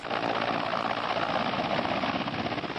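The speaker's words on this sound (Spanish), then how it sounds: "Mientras el primer helicóptero aterriza" Military helicopter landing in a rural area of illicit crops and cattle pastures, a loud, steady rotor and engine roar with constant blade chop filling the whole stretch, no voices.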